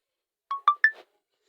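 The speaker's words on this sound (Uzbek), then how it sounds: "Mana shunaqa SMS keladi." A phone gives a short SMS notification tone of three quick rising beeps, clean and alone against silence.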